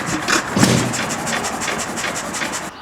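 Hit-and-miss engine running with its clutch engaged on a flywheel pulley, a steady rapid chuffing beat with mechanical clatter, close and fairly loud, stopping abruptly at the end.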